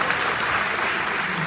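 Applause for his excellency at a New Year 2022 evening show in Paris, a brief burst of dense crowd clapping with no voices over it.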